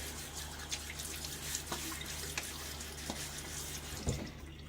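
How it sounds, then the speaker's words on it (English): Water runs and splashes softly from a sink tap while a face is rinsed before shaving, with scattered drips and light splashes over a steady low hum, close and quiet. "So 2 rinses with water before shave."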